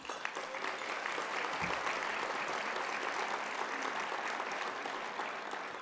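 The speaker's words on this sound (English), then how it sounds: "So a round of applause to all of the nominees," Luncheon guests at a STEM excellence awards event at a national convention applaud the award nominees, a steady, moderately quiet roomful of clapping that carries evenly for several seconds.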